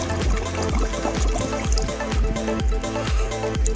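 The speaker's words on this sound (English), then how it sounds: "breathe in above the water and blow out under the water like this" Bubbles blown out under water by a swimmer in a pool, a rapid run of bubbly gurgles repeating in bursts for several seconds, close and steady.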